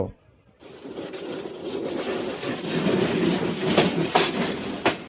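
A passenger train on the line toward Sylhet in northeastern Bangladesh runs along the rails with a steady rumbling roar. Brief clacks of the wheels sound over it, heard from on board after a quiet start.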